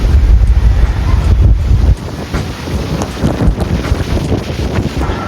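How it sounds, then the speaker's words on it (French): Strong wind at Key West buffets the microphone with heavy low rumbling gusts, easing after a couple of seconds into lighter, fluttering wind noise. "en fait c'est du vent, du coup c'est pour ça que ça bouge"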